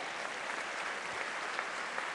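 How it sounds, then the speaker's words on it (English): Audience applause at a university spring commencement ceremony: a dense, even wash of clapping from a large crowd, steady and fairly distant, with no voices over it. "I think you may applaud those accomplishments."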